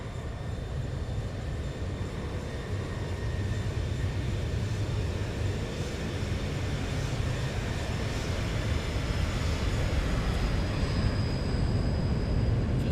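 A Boeing 737 flyby in a flight simulator game gives a steady, broad jet engine roar with a faint high whine, holding constant for about thirteen seconds with no talk.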